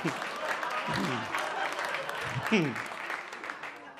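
An audience at a stand-up comedy show applauds with steady, moderately loud clapping for a few seconds while someone talks over it.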